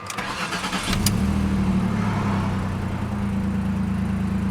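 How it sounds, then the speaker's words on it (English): A 2003 Jaguar X-Type cranks briefly, then fires up and settles into a steady idle. The engine is loud and close, and no one speaks. "So now we can at least start the car and check that the throttle response is happening."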